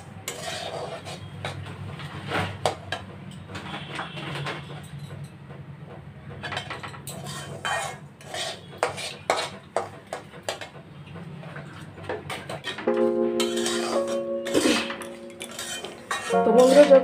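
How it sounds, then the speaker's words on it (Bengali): A utensil scrapes and clinks against a pan while semolina is stirred and fried for halwa, giving irregular close scraping taps, and a sustained tone sounds near the end. "যতক্ষণ পর্যন্ত ভাজাটা না হয় ততক্ষণ পর্যন্ত এভাবে নাড়তে থাকেন আপনারা"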